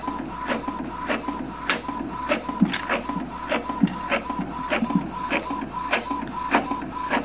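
An Epson L3210 inkjet printer running just after manual print head cleaning, with a steady mechanical whir and regular clicking strokes of the print head moving back and forth, no talking.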